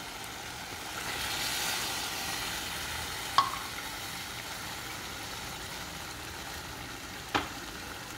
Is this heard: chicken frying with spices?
yes